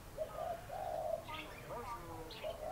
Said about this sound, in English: And birds everywhere.